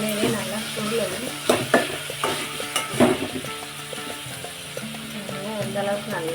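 Brinjal frying in hot oil for a brinjal gravy, with steady sizzling and a spoon stirring and scraping the pan in irregular bursts, close up and with no talk.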